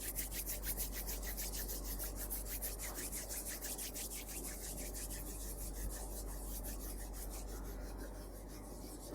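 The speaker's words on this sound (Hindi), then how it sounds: "दोनों हाथों को रब कीजिए।" Two palms rub briskly together in a quiet room, a soft, steady rasping swish repeated in quick regular strokes for several seconds, close and faint with no talking.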